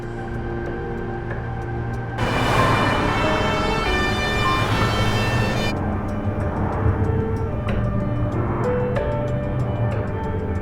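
An ambulance siren wails loudly and close for a few seconds, cycling tones, then fades into a steady vehicle interior hum.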